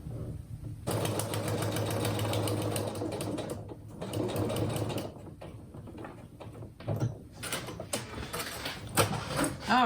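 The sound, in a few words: sewing machine stitching paper-pieced fabric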